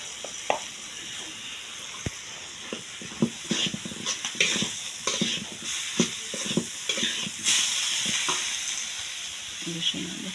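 Garlic and ginger fry in a pan with a continuous crackling sizzle, broken by sharp clinks and scrapes of stirring that come at irregular intervals.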